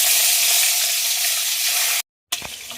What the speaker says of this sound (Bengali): গরম হয়ে গেছে, মাথাগুলো ভাজার জন্য ছেড়ে দেবো।